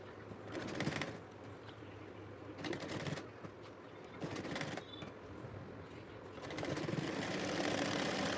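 A sewing machine runs a double line of stitching on a fatuhi, a sleeveless vest, in several close bursts of rapid mechanical whirring separated by short pauses.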